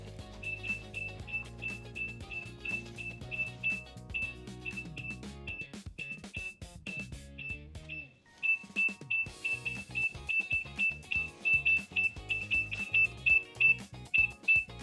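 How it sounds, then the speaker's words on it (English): A high electronic beep from a wireless forklift safety camera monitor repeats in a rapid, steady pulse, pausing briefly midway before resuming, over faint background clatter. "we've got the beep from the other monitor"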